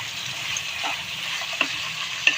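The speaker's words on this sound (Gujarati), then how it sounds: "આપણે બધી ભાજી નાખી દઈશું અંદર. એ આપણે મિક્સ કરી લઈશું" Leafy greens with spices being stirred in a hot frying pan, a close, steady sizzle with a couple of sharp utensil taps against the pan near the end, no speech.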